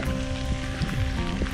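Steady rain falls during a bike ride along the shore of the Schluchsee, a dense, even patter of drops with low rumbling wind or road noise underneath, continuous and fairly loud without any voices.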